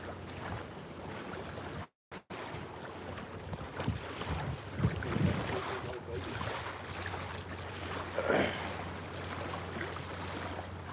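Wind gusts across the Cumberland River, buffeting the microphone from a fishing boat with a steady roar and stronger surges, plus one brief dropout midway.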